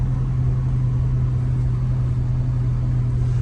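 A box truck's engine brake drones steadily and loudly on a steep downhill grade, a constant low rumble with no voices over it.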